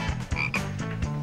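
A cartoon frog croaks in a steady run of buzzy, rattling calls during a French animated classroom scene about frog dissection, continuous and close, with no one talking.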